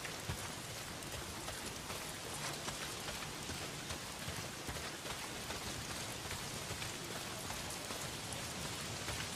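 Steady rain pouring down outdoors in Days Gone, a dense, unbroken wash of drops on surfaces that stays at an even level throughout, with no voices over it.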